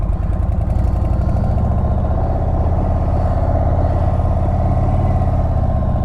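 An Indian Chief Darkhorse bobber motorcycle engine runs in first gear with a loud, close, steady rumble that holds an even tone for about six seconds, with no talk over it.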